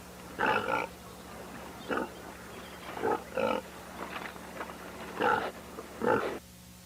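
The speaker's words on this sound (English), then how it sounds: "All the pigs have escaped to the hippo house." Pigs escaping in a video game give off a series of oink-like grunts, about eight short bursts spaced irregularly over a steady low electrical hum, moderately close and fairly quiet.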